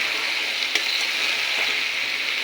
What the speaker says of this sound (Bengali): খুন্তি দিয়ে মশলাটা কষানো হয়ে গেলে এবার দিয়ে দিচ্ছি কেটে রাখা লাউ।